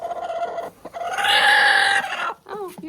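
Hen in a modern shipping-container chicken coop, up close, calling in a rising, sustained squawk-like cluck, then a brief pause and a few short clipped clucks at the end; no one speaks.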